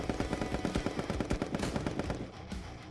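Rapid rifle fire from a first-person shooter game crackles in quick repeated shots, loud and rhythmic for most of three seconds, with no talk over it.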